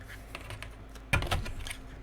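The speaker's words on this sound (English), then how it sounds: "So I'll shuffle these on camera." Tarot cards shuffled by hand up close make light papery clicks and flutters, followed by one sharper riffle burst midway and a few softer taps.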